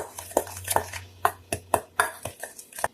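A spoon or utensil clinks repeatedly against a bowl while stirring a homemade deodorant mixture made with coconut flour, close and rhythmic with about ten distinct taps over a few seconds.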